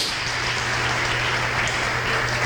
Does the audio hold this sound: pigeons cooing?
no